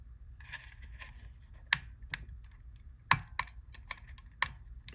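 Small plastic clicks and snaps while the pantographs are lifted on a Lima Expert HO scale Trenitalia E.464 model locomotive: a string of light taps with a few sharper, louder snaps, close and dry over a faint low hum.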